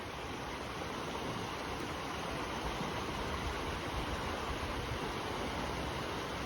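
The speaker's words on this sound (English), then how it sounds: "Wow, look how fast the river's moving." Fast-moving creek water of the Humber River rushes steadily along the trail, a loud, unbroken wash of flowing water heard close by, with no talk over it.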